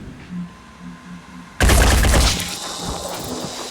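Gunfire in the Phoenix Point video game erupts suddenly after a quiet lull, a loud blast and rattling burst that decays into a lingering crackle.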